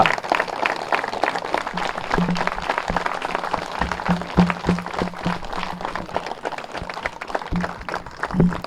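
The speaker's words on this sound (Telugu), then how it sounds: "గట్టిగా చప్పట్లు కొడదాం ఈరోజు ధ్యానానికి" A group claps loudly at the close of a meditation session, dense sustained applause with sharp individual claps standing out, building and continuing for several seconds without talk.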